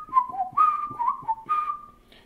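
A person whistles a short melodic tune, clear and close, with sliding notes in a few phrases that trail off at the end.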